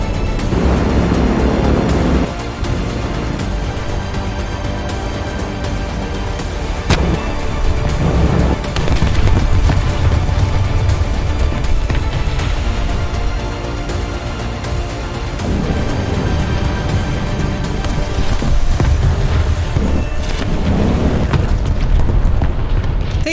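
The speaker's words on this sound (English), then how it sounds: "pretty cool shockwave explosions in the water" Loud, repeated booming blasts of 5000 kg bombs dropped from a PE-8 bomber rumble one after another in water in War Thunder, with a dense, roaring low end, continuing throughout.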